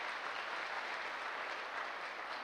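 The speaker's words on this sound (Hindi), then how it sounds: "मैं चाहूँगा सर के लिए एक ज़बरदस्त वाली ताली होनी चाहिए।" An audience bursts into applause at a gathering honouring a former tutor, a dense, steady wash of many hands clapping at moderate distance, sustained evenly without pause.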